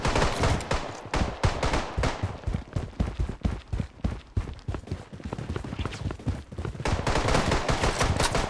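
Gunfire in the mobile shooter Project Bloodstrike, rapid automatic bursts and dense volleys of shots hammering almost continuously, loud and close, with brief gaps between strings of fire.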